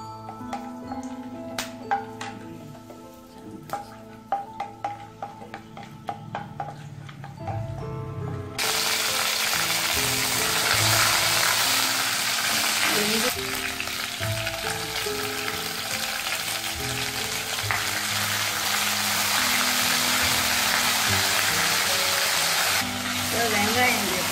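Whole spices (cinnamon, cloves, cardamom, star anise) hit hot oil in a pan for mushroom biryani: quiet clinks and stirring at first, then a sudden loud, steady sizzle that carries on to the end.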